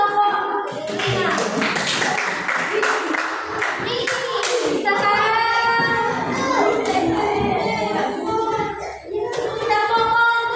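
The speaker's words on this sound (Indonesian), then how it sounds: "tepuk tangan buat kelompok lima" Students in a classroom clap for a group of classmates, a steady patter of hands mixed with children's voices and chatter throughout.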